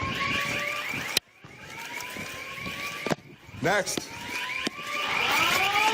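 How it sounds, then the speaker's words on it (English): A school alarm blares inside a Nashville school building, a loud repeating electronic whoop-and-tone pattern broken by sharp bangs, with officers talking over it. "An alarm sounds as officers go classroom to classroom in pursuit."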